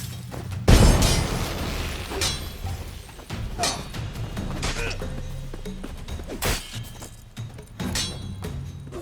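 A loud bomb blast in the video game The Witcher 3, a sharp explosive burst early on followed by scattered crashing hits and smaller pops fading across the rest of the span.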